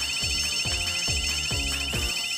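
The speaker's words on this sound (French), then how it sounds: "Sûrement une fausse alarme, là." A building fire alarm sounds continuously, loud and close, its shrill electronic tone steady while a regular pulsing low beat repeats about every half second throughout.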